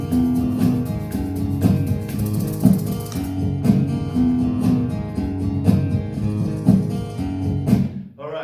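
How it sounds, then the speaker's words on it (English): Shakers sit low in a full band mix of a song, a soft steady rattle under looping guitars and drums that plays continuously for the whole stretch. "even though those shakers are subtle in the mix"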